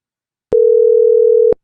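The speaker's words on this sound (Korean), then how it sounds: "그럼 진짜로 전화 온 것 같은 소리가 나거든요" Synthesized 440 Hz and 480 Hz tones mixed together form a steady telephone-ring-like tone, loud and clean, lasting about one second with abrupt start and stop and no other sound.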